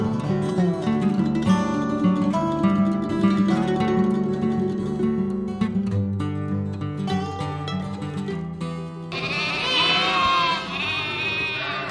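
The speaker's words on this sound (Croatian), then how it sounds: "E, gledaj ovaca, pa svaka čast." A good-sized flock of sheep on a rural Bosnian homestead bleats steadily, many overlapping calls blending into a sustained chorus, loud and close, with no talking.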